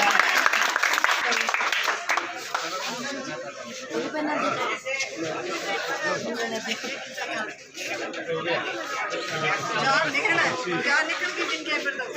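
Applause at a sports closing ceremony greets the winning team as trophies and medals are handed out. Scattered clapping mixes with crowd chatter and light chuckles, while voices talk throughout.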